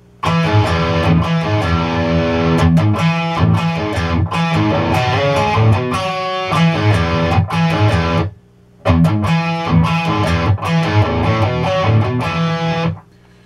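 A loud, heavily distorted electric guitar riff plays with dense chugging chords, breaking off briefly midway before resuming at full volume.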